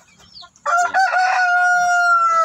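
A Brahma rooster crows loudly and close by, one long drawn-out call after a brief rustle.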